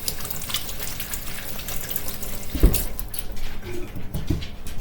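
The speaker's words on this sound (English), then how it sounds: "I am going to wash my hands" Tap water runs steadily into a kitchen sink while hands are washed before mixing turkey burger meat, a close, continuous splashing stream with a brief knock and some handling noises partway through, no talk.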